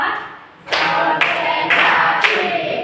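A classroom of students claps together in a chant-led routine, four loud unison claps in a steady rhythm after a brief lull, close and sharp.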